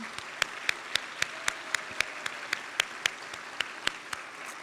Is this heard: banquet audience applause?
yes